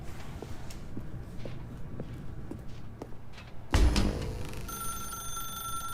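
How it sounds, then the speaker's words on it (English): A telephone rings in The Stanley Parable: Ultra Deluxe, a bright mechanical bell that begins abruptly after some soft footsteps and continues steadily, clear and moderately loud. "Now pick up the phone."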